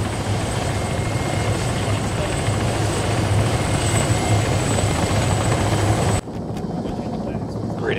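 A video game helicopter's rotor and engine drone loudly and continuously, then cut abruptly to a quieter muffled hum near the end, with a player's voice over it.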